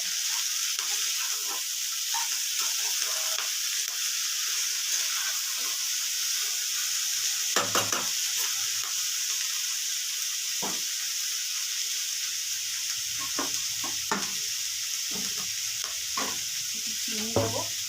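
Chopped cauliflower, radish and potato fry in a pan with salt, turmeric and sugar, giving a steady close hiss broken by scattered scraping clicks of stirring, with no voices.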